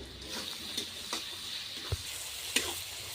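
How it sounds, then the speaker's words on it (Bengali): Onions fry in oil, sizzling steadily under a few sharp scraping stirs of a spatula against the pan, no talking. "ভালো করে পেঁয়াজগুলো আমি একটু লাল লাল করে ভেজে নেব"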